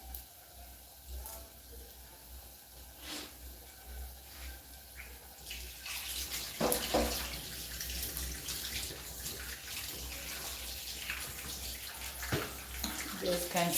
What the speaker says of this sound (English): you guys can't see me washing the coriander